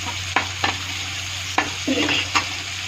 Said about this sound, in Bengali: টমেটোটা ভাজা ভাজা করে নিই।